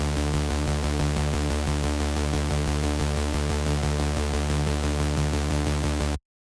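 Sustained synth pulse built in Serum from two detuned unison oscillators, the second pitched up an octave, droning steadily and densely for about six seconds, then cutting off abruptly.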